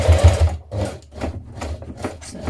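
A sewing machine stitches fabric for a bias-cut skirt, running around a square in quick mechanical bursts with brief pauses between them, close and fairly loud.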